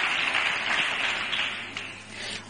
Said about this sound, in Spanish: Denle un aplauso fuerte a Dios por eso.